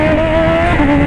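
A BMW S1000 motorcycle engine revs hard up close, a loud, sustained high-pitched howl that holds steady and rises slightly toward the end.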